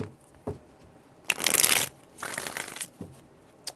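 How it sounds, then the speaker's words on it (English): Tarot cards are shuffled in several quick riffling bursts, crisp and close, with short pauses between them. "4 shuffles."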